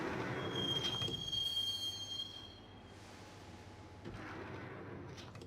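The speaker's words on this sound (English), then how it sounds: "the train doors had already shut behind me, and I was in for the ride" Subway train ride in the Max Payne video game: a sharp, sustained metallic wheel squeal over the steady rumble of railcars, fading then swelling again as the train rolls on, with no voices.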